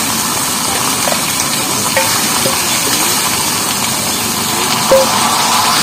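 Taro and masoor dal sautéing in spices in a pan, a steady hiss of frying with soft scraping stirs and an occasional clink, continuous and close, no voices.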